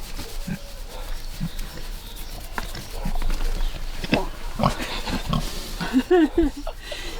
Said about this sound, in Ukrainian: як оця родина свиней